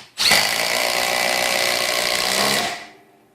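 A Milwaukee M18 impact driver sinks a 3/8 inch lag screw with no pre-drilling, one loud continuous burst of rapid hammering impacts lasting about two and a half seconds before cutting off and fading, close up and alone.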